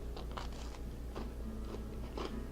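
Someone bites into and chews a crunchy homemade gingersnap cookie, giving a few close, crisp crunches spread over the moment against a low steady background.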